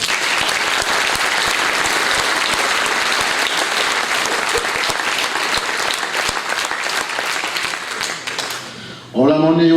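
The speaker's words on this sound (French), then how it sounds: "On peut les applaudir." Loud, sustained applause from the crowd at a local election campaign meeting for a town list in Hagetmau, many hands clapping densely before fading slightly, then a voice begins speaking at the very end.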